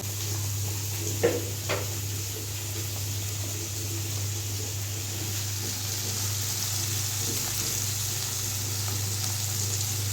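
Stinging catfish frying in a pan gives a steady, even sizzle that runs throughout, with a low constant hum beneath it and a couple of faint knocks early on.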